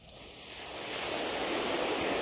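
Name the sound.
ocean waves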